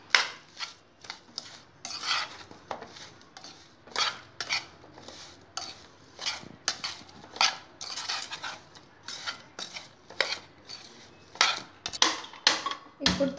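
A spoon scrapes and clinks in a bowl, mixing salt, fenugreek powder and garlic paste for a dosakaya pickle, in a repeated rhythm of close, bright scraping strokes.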